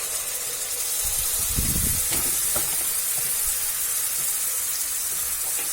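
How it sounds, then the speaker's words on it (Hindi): Mustard, garlic and ginger paste frying with spices in a pan for drumstick and potato sabzi makes a steady, close hiss of sizzling, with a few soft stirring knocks near the start. "लहसुन अदरक का पेस्ट ऐड करेंगे"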